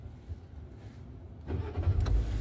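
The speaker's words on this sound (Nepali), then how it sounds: "ल स्टार्ट भयो गाडी" An automatic car's engine starts up after a quiet stretch. It catches with a sudden mid-range burst about halfway through, then settles into a steady, fairly close idle.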